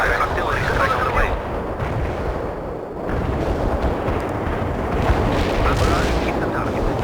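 Artillery strike in World in Conflict: a dense, continuous rumble of overlapping explosions and booming impacts, briefly easing before surging again, with voices heard faintly among the blasts.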